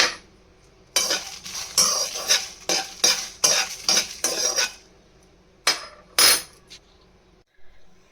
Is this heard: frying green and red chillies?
yes